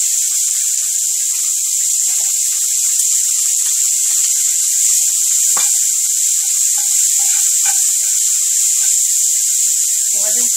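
Onion added to hot oil in a frying pan sizzles with a steady, bright hiss that holds evenly throughout, with a few faint ticks and pops.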